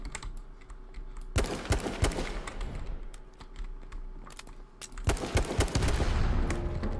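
Pistol fire from several players fighting in H1Z1, heard as sharp scattered shots in short bursts, some near and loud, others farther off, over a busy game background.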